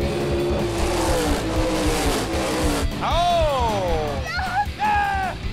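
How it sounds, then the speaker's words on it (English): Drag race cars at Maple Grove Raceway roar through burnouts, engines loud and close, then tires squeal in several rising, wavering bursts toward the end. "Let's see the burnouts, boys, come on!"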